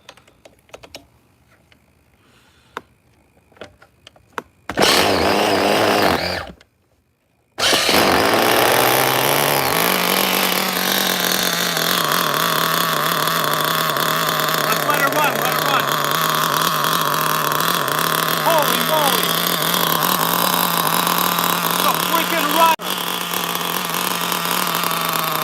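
A vintage Mugen RC car nitro engine fires up after a short run of clicks and handling noise, then screams loudly and close before settling into a steady, buzzing idle that holds for many seconds.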